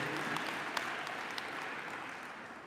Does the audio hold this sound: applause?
yes